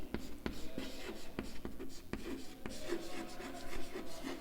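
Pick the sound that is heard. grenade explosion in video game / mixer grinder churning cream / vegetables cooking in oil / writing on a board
writing on a board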